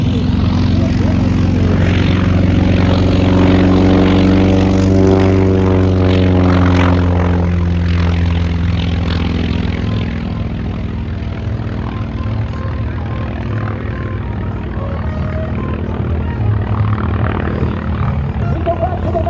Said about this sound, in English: When the sound of those radial engines put fear into our adversaries.